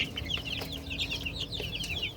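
Chickens and chicks cluck and peep quietly at a chicken farm, a steady scatter of short high calls close by with no voices.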